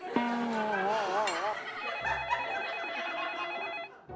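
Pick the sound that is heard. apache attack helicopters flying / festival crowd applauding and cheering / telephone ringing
telephone ringing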